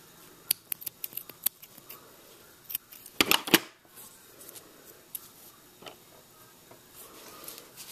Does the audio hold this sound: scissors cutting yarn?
yes